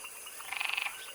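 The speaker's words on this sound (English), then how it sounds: "Amazon milk frog, Trachycephalus resinifictrix, is a sizable arboreal frog indigenous to the Amazon rainforest in South America." An Amazon milk frog, a large arboreal rainforest tree frog, gives one rapid pulsed croak, a quick train of about a dozen clicking notes lasting roughly a third of a second, clear and close over a faint steady background hiss.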